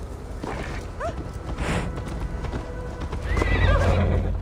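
A horse's hooves clip-clop in a quick, steady gallop in Assassin's Creed Valhalla, with a short whinny partway through and the pounding growing louder toward the end.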